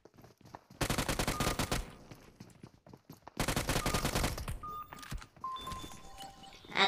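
Rapid bursts of automatic gunfire from the battle royale game PUBG Mobile, two long loud volleys with shorter shots and electronic game tones between them, no talk.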